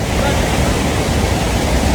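Rushing river water pours over a small waterfall where fish are caught with nets, a loud, steady, dense roar that fills the whole moment with no break.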